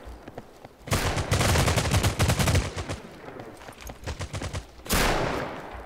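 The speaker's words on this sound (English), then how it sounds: "Oh, getting hit with a shotgun." Video game gunfire with rapid bursts of shots in a firefight, loud and dense, stopping briefly before another burst of shots near the end.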